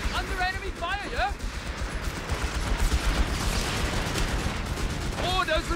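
Gunfire and battle noise from the video game Company of Heroes 3, a dense, continuous wash of shots and explosions with voiced unit callouts over the top.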